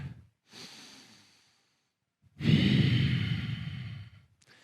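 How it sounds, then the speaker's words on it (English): A deep breath taken during a standing stretch in a hiking warm-up: a short inhale, a pause, then a long, loud, breathy exhale close to the mic, with no talking. "Take one more breath here."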